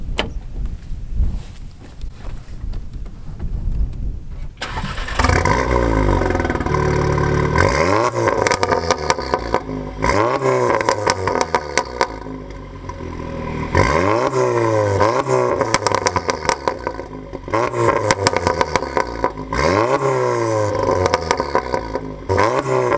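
A 500 hp Volkswagen Golf R with a Revo tune revs hard in sport mode, rising and falling loudly in repeated bursts after a quieter start, with crackles on the overrun between revs.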